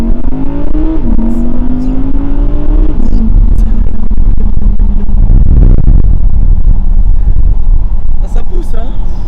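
An Audi R8 RWD accelerates hard from inside the cabin, its engine note climbing steadily then shifting and rising again, loud and continuous, with someone talking over it.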